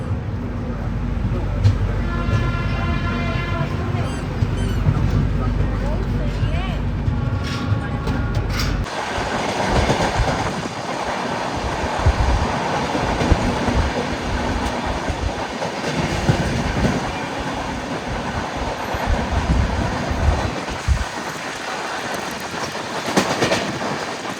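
A passenger train on the Haridwar–Mumbai run, heard from inside a 3rd AC coach near Ghaziabad, opens with a steady tonal hum, then shifts into a loud, continuous rumble with rhythmic clickety-clack of wheels on the rails.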